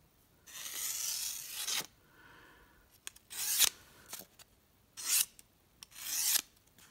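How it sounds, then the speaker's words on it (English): A Miguel Nieto Pegaso traditional hunting folding knife slicing through paper in several rasping, scratchy strokes, some long and some short, close up and alone. "But the whole edge can really easily slice paper without any problem"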